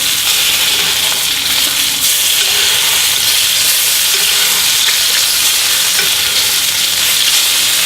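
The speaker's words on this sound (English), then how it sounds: "we just tip our pan away from us and spoon those juices over the steak" Steak sizzles loudly in a pan as melted butter juices are spooned over it, a dense, continuous hiss and crackle heard up close without pause or voices.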